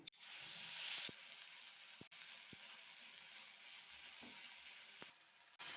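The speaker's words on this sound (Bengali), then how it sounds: "এখন ওই তেলের মধ্যে বাকি আদা রসুনের পেস্টটা দিয়ে দিলাম" Ginger garlic paste hits hot oil with a soft, steady hiss and sizzle, faint and even, with a few light clicks of utensils.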